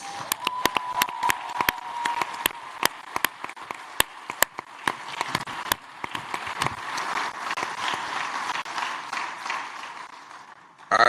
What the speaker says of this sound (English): would you just give them a round of applause?